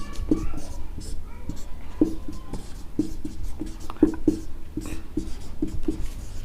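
Pen scratching on paper while the solution to a class 8 rational numbers maths problem is written out, in short irregular strokes and taps, close and clear, with quiet speech faintly underneath.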